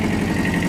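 A Kubota KJ11 Japanese mini tractor engine runs steadily in third gear with the rotary tiller raised, a continuous low droning hum with even vibration and no pauses.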